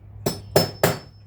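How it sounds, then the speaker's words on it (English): Three sharp metallic taps of a hammer striking a Phillips screwdriver, evenly spaced and close, with no talking. "Phillips head and just give it a little tap"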